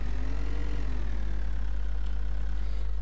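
Small tractor engine in Farming Simulator 2013, a steady, loud synthetic drone with a strong low hum and a rising-and-falling tonal whine as the revs shift, continuous and close with no voices.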